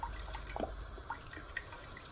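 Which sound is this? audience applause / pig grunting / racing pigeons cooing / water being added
water being added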